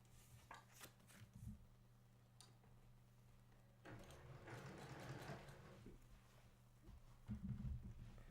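A sewing machine stitches quilt fabric pieces with a 1/4 inch foot along a seam tape guide, in a few short, fairly quiet runs of whirring stitches separated by pauses.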